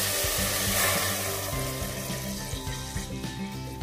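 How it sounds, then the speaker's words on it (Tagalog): Water is poured into a pot of beef caldereta, giving a continuous splashing gush with a faint sizzle underneath that tapers slightly toward the end, with no voices. "Pwede na natin ilagay ang tubig."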